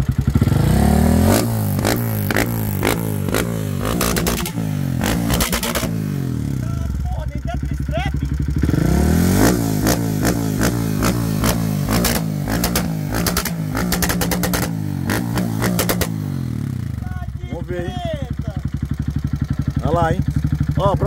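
A fuel-injected Honda Twister motorcycle with an 80 mm piston revs hard up close, rising and falling in repeated loud swells with clattery mechanical noise, while people talk in between.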